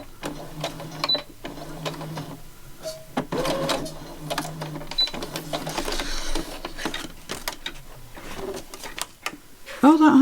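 A sewing machine stitches through a paper notebook folio in short, uneven bursts of rapid clatter, close by, with pauses between runs and someone talking over and between them.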